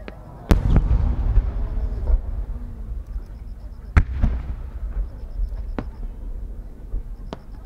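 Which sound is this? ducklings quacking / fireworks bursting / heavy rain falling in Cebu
fireworks bursting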